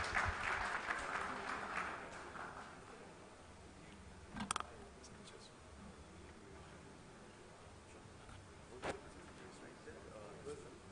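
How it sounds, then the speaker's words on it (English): An audience at a tech conference claps to welcome a speaker to the stage, the applause fairly faint and fading after the first couple of seconds, followed by quiet room noise with a few sharp knocks. "Please welcome on stage Mr. Nikhil Vora with a humongous round of applause."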